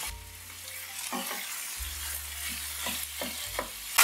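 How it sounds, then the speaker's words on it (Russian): Minced beef sizzles and crackles steadily in a hot pan over high heat, with occasional scraping stirs from a spatula and a low hum underneath. "Добавляю в сковородку говяжий фарш. Разминаю его лопаткой и обжариваю."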